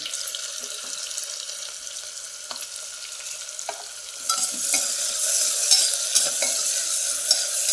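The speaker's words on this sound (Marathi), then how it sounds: "कांदा टाकून घ्यायचा कांदा पण छान परतून घ्यायचा" Chopped onion frying in hot oil with cumin and mustard seeds, a steady close sizzle under occasional stirring scrapes, growing louder and denser halfway through.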